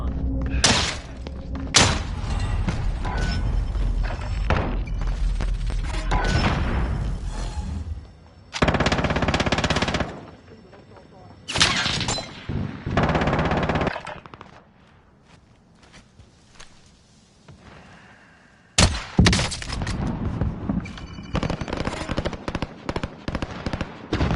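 Video game gunfire in bursts: rapid machine-gun rattles and heavy shots come loud and close in several dense stretches, broken by brief quieter gaps with thuds and faint background activity.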